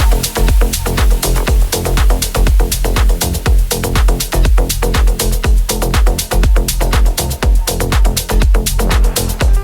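An organic house mix drives along with a steady four-on-the-floor kick and dense percussion, while subtle, quiet vocal ear-candy snippets sit tucked low inside the loud, continuous groove.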